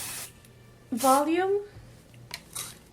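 An aerosol can of hairspray sprays onto thin, short hair with hair extensions, giving a couple of short, close hissing bursts, the middle one longest, separated by someone speaking briefly.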